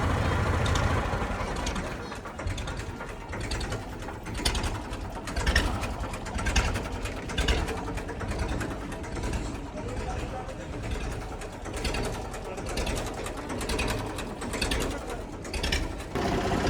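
A rattling, clattering engine runs continuously nearby while people talk over it.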